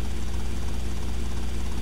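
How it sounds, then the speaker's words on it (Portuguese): A helicopter in the video game GTA Vice City flies with a loud, continuous rotor and engine drone, steady and close with no talking. "é a possibilidade de você poder guiar helicópteros."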